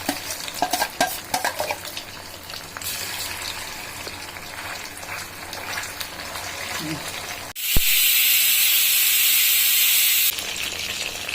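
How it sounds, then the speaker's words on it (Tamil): Chicken 65 frying and being stirred in hot oil, a steady close sizzle with scraping stirs and a light voice in the first part, then a sudden louder, brighter hiss of fresh pieces dropped into the oil. "இதையும் சேர்த்து இப்போ வறுத்து எடுத்துடலாம்."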